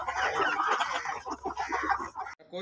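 Chickens cluck in a village yard during a gathering among friends, the fowl calls steady and fairly close over a busy background that drops away abruptly near the end.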